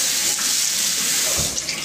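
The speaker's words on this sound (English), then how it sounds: "let's give it a little rinse." Running water pours steadily from a kitchen faucet while cabbage is rinsed under it, a loud continuous hiss and splash with no pauses.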